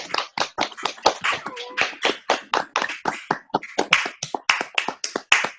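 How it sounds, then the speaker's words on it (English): Scattered claps from several people unmuted in an online meeting, uneven and overlapping rather than unified, each burst sharp and close through laptop microphones, with a faint voice briefly underneath. "just if everybody can just unmute and clap, give her a clap"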